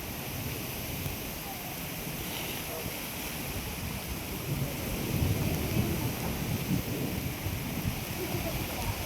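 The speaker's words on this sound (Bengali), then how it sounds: "ডেঞ্জারাস দিন সাংঘাতিক বিদ্যুৎ চমকাচ্ছে" A thunderstorm with steady rain and low rumbling thunder during a period of intense lightning; a continuous wash of rain with a heavier rumble swelling midway, and no clear speech.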